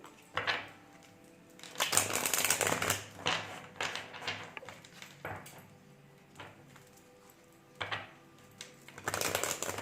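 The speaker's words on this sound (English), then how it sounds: "I'm going to pull 2 cards for the neutral energy in the middle" Tarot cards are shuffled and pulled from the deck, heard as close, intermittent bursts of papery riffling and sliding separated by short quiet gaps.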